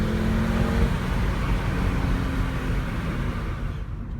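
A Volkswagen Jetta 2.5 engine held at high revs around 4,000 to 5,000 RPM, a loud close steady roar that begins to ease off toward the end, with no talking.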